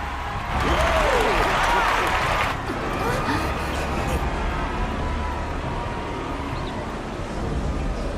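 A large crowd cheers and applauds in a Final Fantasy XIV cutscene, loud at first and then fading into a softer murmur over a low ambient bed.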